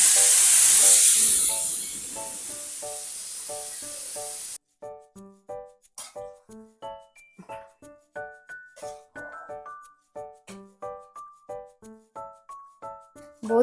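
A loud burst of hissing steam rushes out of a pressure cooker of beef paya as it is opened, lasting about four seconds, then cuts off abruptly, followed by a rhythmic, tinkling melody.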